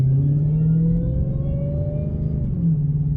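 Dodge Challenger Hellcat fitted with a JTL cold air intake, accelerating with a loud engine rumble and a rising supercharger whine; steady and close throughout, with no talking.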